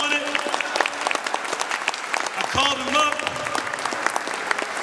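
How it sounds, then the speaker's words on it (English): An audience at a Nat Turner Day gathering breaks into loud, crackling applause with whoops and voices mixed in, sustained throughout. "Brother, can we get that brother a round of applause?"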